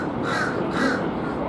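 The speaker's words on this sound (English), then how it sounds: "The birds are already coming back onto board" Crows caw in two loud, harsh bursts over steady wind and ship noise on the open deck of a Carnival Paradise cruise ship during disembarkation day.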